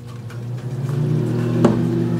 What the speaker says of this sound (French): Je mets ça au micro-ondes pour que ça puisse fondre.